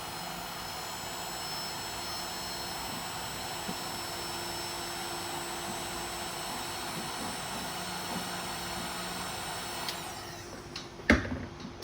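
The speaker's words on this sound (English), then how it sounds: "And then I'll just hit it with the heat gun for a few seconds." A heat gun blows steadily on the tip of a bottle of Starbond medium CA glue while gluing 1/8 scale buggy tires, a constant broad airy roar close by that ends with a few clicks and knocks.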